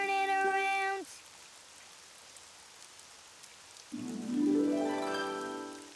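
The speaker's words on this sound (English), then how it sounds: "Oh, it's raining outside." Rain falling in the Daniel Tiger's Neighborhood children's video game, a steady soft patter running throughout, between brief melodic game tones at the start and end.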